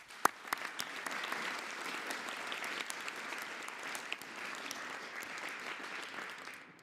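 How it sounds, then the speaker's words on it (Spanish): Audience applause for children at a presidential press conference in Mexico, steady broadband clapping with a few sharp individual claps near the start, sustained for several seconds at moderate level before cutting off abruptly. "vamos a aplaudirle a las niñas y a los niños."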